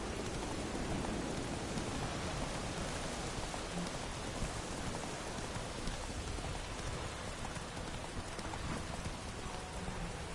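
Steady rain pours down in a dense, even hiss, with raindrops pattering on surfaces throughout and no voices, in the video game The Witcher 3: Wild Hunt.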